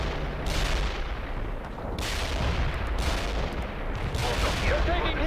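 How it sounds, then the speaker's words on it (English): An artillery strike in World in Conflict pounds down as a dense barrage of heavy booms and blasts, loud and continuous, with several bigger impacts surging out of the din. "Artillery strike complete."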